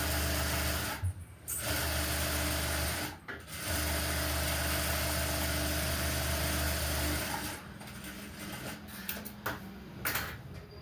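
An electric sewing machine stitches the top border of a blouse, a close, loud, steady whirring hum broken by brief stops, then choppier short runs near the end.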